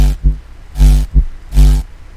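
Thick processed bass synth layered with a sub and a bitcrusher with low cut, three heavy sustained stabs with short bouncy hits between them, deep, loud and beefy.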